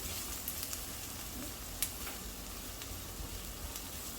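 Belachan shrimp paste fries in a pan for an Indonesian prawn curry, giving a steady, quiet hiss and crackle with faint occasional stirring clicks and no voices.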